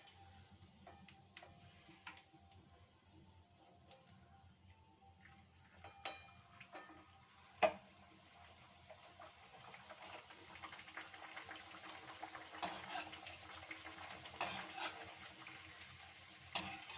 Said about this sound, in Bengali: এইভাবে আমি কিন্তু কচুরিগুলো সব ভেজে নেব।